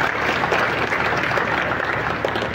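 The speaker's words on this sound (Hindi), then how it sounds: "जोरदार तालियों से स्वागत किया जाए" Audience at a Kalki Jayanti gathering applauding to welcome a poet, a continuous loud patter of clapping from a crowd throughout.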